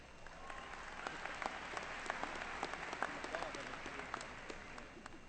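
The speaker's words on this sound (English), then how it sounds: "Please join me in giving another round of applause to our orchestra" An audience at a high school commencement ceremony applauds with steady, moderately distant clapping that carries on without a break.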